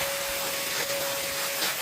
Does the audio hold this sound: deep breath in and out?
no